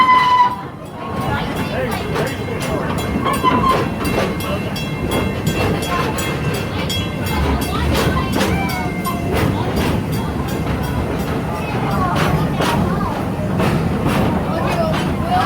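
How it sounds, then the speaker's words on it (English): A steel train running on steel rails during an amusement park ride at Busch Gardens Tampa gives a steady, loud rumble with rattling clatter, continuous for the whole stretch, with voices faintly mixed in. "this is a steel train on steel rails"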